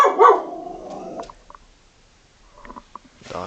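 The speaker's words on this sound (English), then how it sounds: "Dog in the background." A dog barks in the background, one loud bark at the start, then faint scattered sounds and a softer yelp near the end.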